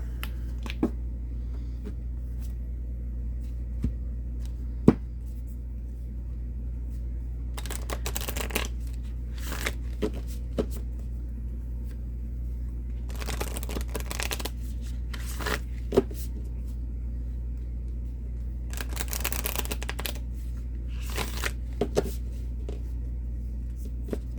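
Oracle cards being shuffled and handled, several quick riffling bursts and soft taps over a steady low hum, close and fairly quiet.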